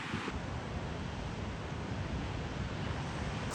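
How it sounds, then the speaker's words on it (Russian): Sea waves breaking on a windy shore at Vladivostok, a steady broadband wash of surf mixed with wind rumble on the microphone, continuous and fairly loud throughout, no voices. "Но какие-то волны есть."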